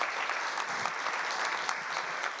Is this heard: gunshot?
no